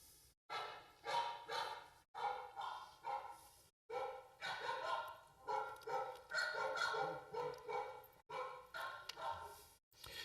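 A dog barks in a long, rapid series of loud, close, harsh barks, coming in quick bursts separated by brief pauses, with no speech over it.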